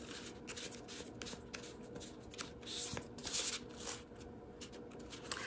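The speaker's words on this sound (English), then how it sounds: "I'm going to close my eyes and shuffle again" A deck of cards is shuffled close by, with soft riffling bursts and papery rubbing, fairly quiet and without talk.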